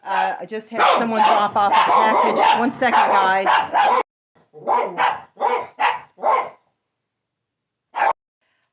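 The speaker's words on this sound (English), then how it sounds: "sorry for the dogs." A person talks briefly, then a dog gives a short run of sharp barks, falls quiet, and lets out one more bark after a pause.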